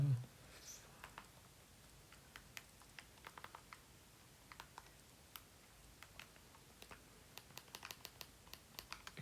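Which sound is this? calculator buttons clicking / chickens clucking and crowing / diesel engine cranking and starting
calculator buttons clicking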